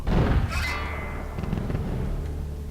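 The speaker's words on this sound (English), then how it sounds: "Oh, fireworks! Ooh, secondary explosions." Fireworks and secondary explosions in the game Vampire: The Masquerade Bloodlines: a heavy low boom at the start, followed by a sustained rumbling roar with scattered crackles and thuds. It sounds loud and close, and no one speaks over it.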